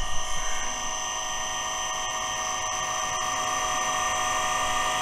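A truck's air suspension compressor runs steadily with a whining, droning hum and bright tonal buzz, constant and close with no talk over it.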